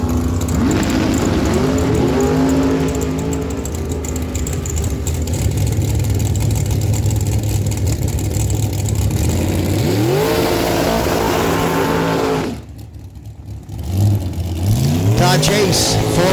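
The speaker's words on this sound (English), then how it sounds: "on the left side of the track, the 97 Spitzer Red Dragster, 473 dial on that machine from Stellarton, Nova Scotia" Two drag racing dragsters, the Spitzer red dragster and the Maddox dragster, roar down the track with loud sustained engine howl and rising pitch sweeps, a short lull near the end, then another climbing rev.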